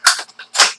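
An air rifle in Garry's Mod fires two sharp, hissing shots about half a second apart, both loud and close, with fainter clicks and rattles in between.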